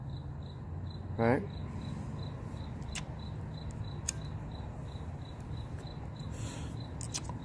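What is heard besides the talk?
crickets chirping at night in May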